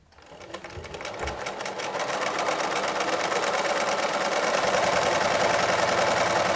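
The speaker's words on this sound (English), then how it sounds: "we're going to be using the sewing machine" A sewing machine stitches a seam through fabric, its needle hammering in a rapid, steady mechanical rhythm that speeds up and holds loud and close.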